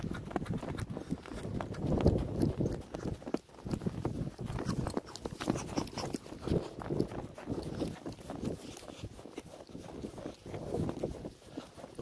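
Hooves of a young English thoroughbred horse clip-clop steadily at a walk outdoors in winter, a fairly loud uneven series of thuds throughout with no talking.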